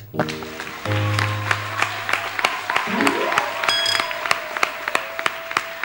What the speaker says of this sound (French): Acclame Jésus bien.